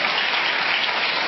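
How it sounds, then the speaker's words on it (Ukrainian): A studio audience at a Russian-language talk show applauds, a dense, even wash of clapping that fills the short moment without a break, no talking over it. "Спасибо за аплодисменты, господа."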